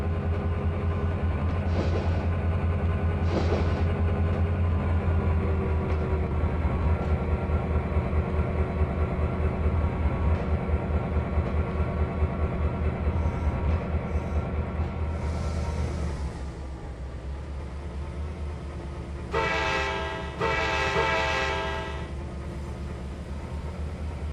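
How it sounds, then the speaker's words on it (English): A locomotive pulling boxcars back into place in the Trainz 2022 railroad game, with a steady low engine rumble and rolling drone that eases off partway through, then a few brief squeals. "We'll pull those these boxcars back into place where they belong, so they can be loaded."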